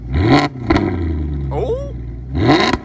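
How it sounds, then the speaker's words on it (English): A Maserati GranTurismo's Italian V8 barks through its exhaust, revving sharply twice with a steady idle rumble between, loud and close, while a voice speaks over the middle stretch. "This is the V8, Italian V8 on a Maserati GranTurismo."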